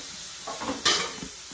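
Lamb chops sizzle and fry in a hot pan, a steady close crackle with a brief scrape or stir of a utensil partway through.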